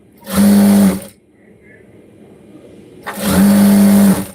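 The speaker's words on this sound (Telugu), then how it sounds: "ఇలా ఫస్ట్ స్టిచ్ వేసుకున్న తర్వాత టర్న్ చేసుకొని పై వైపును కూడా స్టిచ్ వేసుకోవాలి" A sewing machine stitches fabric onto a cross belt in two loud, close bursts of steady motor hum and needle clatter, each lasting under a second, separated by a quiet pause.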